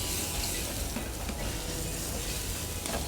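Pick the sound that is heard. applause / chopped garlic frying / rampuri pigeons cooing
chopped garlic frying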